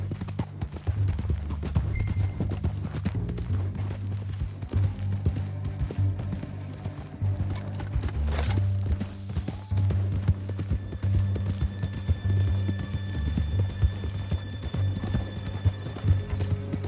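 Steady clip-clop of horse hooves trotting at an even rhythm in a video game on PS4, fairly close, with a low rumbling ambience underneath and an occasional faint whinny.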